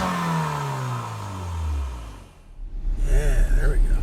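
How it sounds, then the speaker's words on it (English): A 2019 Porsche Macan's exhaust revs and falls away with a descending tone, then a voice talks over a closer, rough engine rumble. "so the exhaust sounds, it sounds really good."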